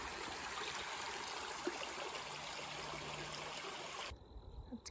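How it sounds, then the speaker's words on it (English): Stream water rushing steadily over rocks at a trail crossing in Vermont, a close, continuous broadband wash that cuts off abruptly near the end. "Plenty of water crossings in Vermont too."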